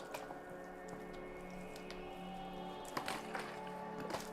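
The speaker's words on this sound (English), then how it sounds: "What I'm gonna do now is water it a little bit." Water poured over perlite around a poplar cutting gives soft, faint drips and wet squishes close by, a gentle trickle with a few slightly louder spatters near the end.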